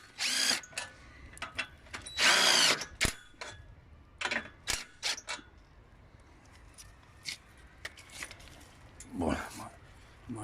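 Short whirring bursts of a power drill tightening screws on a metal rod fixed to a greenhouse arch start and stop irregularly, loudest near the start, with quiet workshop handling noises between them.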